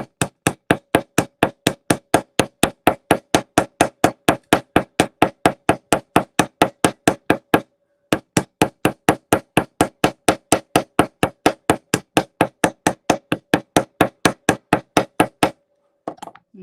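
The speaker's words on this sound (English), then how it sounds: "you got to do quite a bit of hammering here" Rapid, evenly spaced hammer strikes flattening jewelry wire on a metal block ring out continuously, with one brief pause midway before the pounding resumes and then stops.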